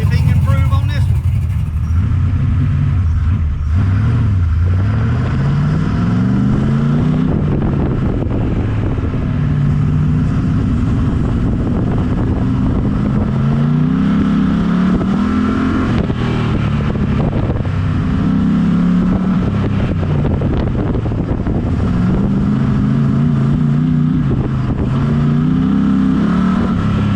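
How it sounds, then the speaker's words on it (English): A truck runs an autocross lap on a wet track, its engine loud and close as it revs up and down in repeated cycles of acceleration and easing off, with people talking over it throughout. "Nathan going out for lap number 2"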